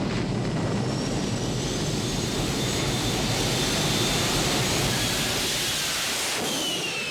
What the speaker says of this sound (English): ephen Dane, Jerry Siegel from Thrust Racing, these are guys who built this car from scratch and gave us a jet car.